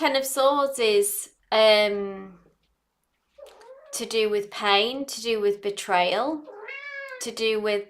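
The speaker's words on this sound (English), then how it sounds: "sorry if you hear meowing, that's just my cat in the background." A cat meows repeatedly with drawn-out, wavering cries, mixed in with a person talking nearby.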